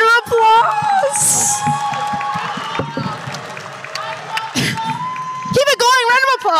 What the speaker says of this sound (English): Keep it going. Round of applause.